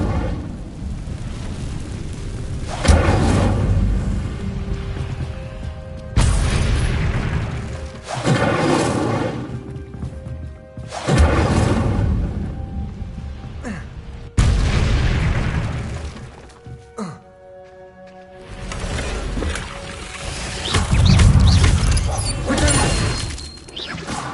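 Incendio fire spell cast repeatedly in a Hogwarts video game: about five loud, roaring whooshing blasts with booming low rumbles, each fading before the next, alongside soft game music.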